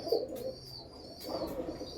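A male pigeon coos twice in soft low phrases with a pause between, fairly close, with no talking.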